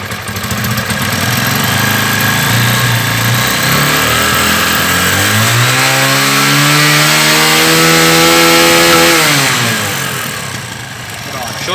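A 2010/11 Dafra Apache RTR 150 motorcycle engine idles close by, then revs up smoothly to a sustained high pitch before easing back down toward idle, loud and alone without talk.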